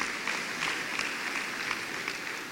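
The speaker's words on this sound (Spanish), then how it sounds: "dale un aplauso al Señor." A church congregation applauding during a sermon, steady dense clapping at moderate loudness, fairly even throughout with no voices over it.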